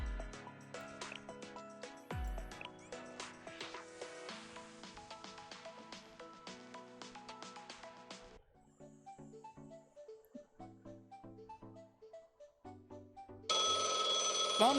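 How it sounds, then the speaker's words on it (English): Telephone ringing in the video game Blue Archive, a repeating electronic ring pattern sitting among game music, ending with a brighter burst of sound. "Phone ringing."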